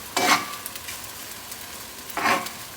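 Two short bursts of food sizzling in a hot pan on high heat while cooking Pad Thai, each a bright hissing crackle as ingredients are stirred, with quieter background frying between them.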